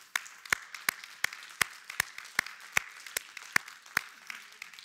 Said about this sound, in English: Let's give them a good hand clap.